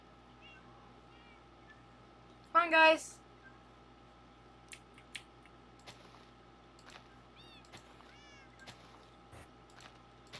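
Cats in a Minecraft game let out one loud burst of meowing, followed by scattered fainter meows and clicks while a person speaks briefly.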